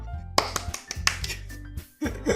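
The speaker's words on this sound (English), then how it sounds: "I'm the first to start applauding." A few sharp, scattered claps in Doki Doki Literature Club ring out with pauses between them, over a low droning background.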